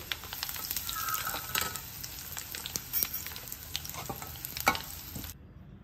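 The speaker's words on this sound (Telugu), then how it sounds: "ఇప్పుడు ఎండుమిరపకాయలు వేస్తున్నాను. అలాగే ఒక చెంచాడు ఇంగువ." Dried red chillies and asafoetida sizzle and crackle steadily in hot tempering oil for gongura pickle, a close, continuous fry with sharp pops, cutting off abruptly near the end.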